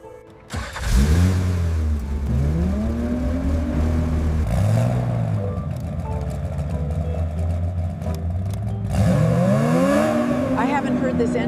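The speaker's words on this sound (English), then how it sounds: "I haven't heard this engine in 30 years." A Lamborghini Diablo V12, long abandoned and newly restored, revs loudly and close up in repeated rising and falling bursts over a steady idle, with people talking over it.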